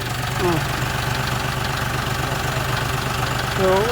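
A John Deere 5040D tractor engine runs steadily while driving on a long road trip near the Savannakhet border, a continuous mid-pitched rumble with someone talking over it.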